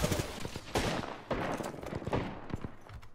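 Rapid bursts of gunfire from a video game shooter, several loud volleys in quick succession with dense automatic fire.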